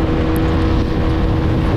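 Kymco KRV motorcycle at speed with the engine accelerating, a loud continuous droning roar up close with rushing wind noise and no talk.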